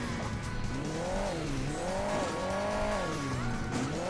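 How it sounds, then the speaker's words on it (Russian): A tow truck drives in the mobile game Hill Climb Racing 2, its engine whining up and down in steady revving cycles as it climbs over terrain, clear and close with no talking over it. "Видишь, как тягач едет."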